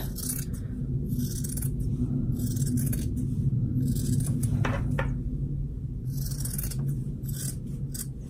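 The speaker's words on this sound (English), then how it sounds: "Just cut all the way around." Scissors snip steadily through fabric around the stitching of a handmade gnome stuffie, a close, quiet, continuous cutting and rubbing with a few sharper snips, and no talking.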